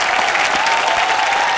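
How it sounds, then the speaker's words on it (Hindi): Studio audience at a comedy talk show breaks into loud, dense applause welcoming a guest, a continuous roar of many hands clapping close and even throughout. "एक बार अर्शद भाई के लिए जोरदार तालियां।"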